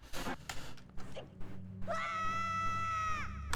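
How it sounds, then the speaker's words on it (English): Link lets out a sustained, strained scream in the Zelda game Wind Waker, preceded by short bursts of game sounds and clatter, the cry clear and prominent at the end. "I don't want to keep hearing Link scream"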